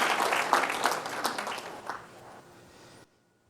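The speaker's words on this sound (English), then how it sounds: "We'll have a little round of applause from your colleagues here who've come out to show their support for you" Colleagues applaud at a City of Apopka State of the City event, a short round of clapping that tapers off and stops abruptly, with faint voices mixed in.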